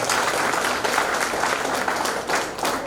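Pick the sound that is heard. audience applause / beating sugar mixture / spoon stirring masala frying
audience applause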